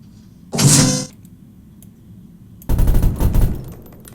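Sustained automatic gunfire in Arma 3 with the Blastcore Phoenix mod, two bursts: a short loud rattle early, then a longer rapid stream of shots after a pause, over quiet background ambience.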